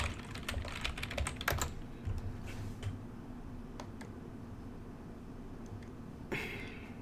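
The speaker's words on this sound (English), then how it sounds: "I'm going to type in the word definition" Keystrokes on a computer keyboard, a quick burst of clustered clicks at first, then a few sparse, separate taps over a steady low room hum, close and moderately quiet.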